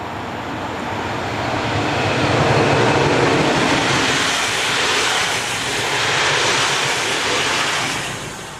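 Class 143 electric locomotive 143270 passes by on a European railway line, a loud broadband rush of wheels and motors that swells, holds through the pass and tapers off at the end, with no talking.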